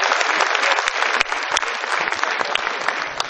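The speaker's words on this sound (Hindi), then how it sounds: "मैं चाहता हूं एक बार इस अंतर्राष्ट्रीय फनकार के लिए आप जोरदार तालियों से आप स्वागत करें।" An audience at a kavi sammelan poetry event at Taj Mahotsav 2017 gives loud, dense applause to welcome a poet, steady clapping from a large crowd throughout with no speech over it.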